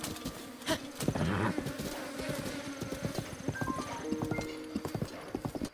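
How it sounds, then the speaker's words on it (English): Bees buzz in The Legend of Zelda: Breath of the Wild, a faint, steady drone heard through clopping hoofbeats and other game sounds. "Bees!"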